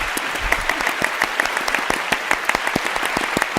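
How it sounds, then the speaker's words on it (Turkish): Studio audience applauding on a Turkish TV quiz show, a dense steady patter of many hands clapping at close range for several seconds with no talk over it. "Hadi şöyle Zeynep Hanım'ı alkışlar."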